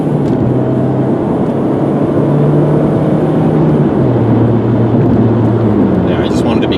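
Engine of a 2001 Ford Focus SE pulling steadily under acceleration on a road drive, a sustained droning hum with tone steps as it changes gears, heard from inside the car, loud and continuous.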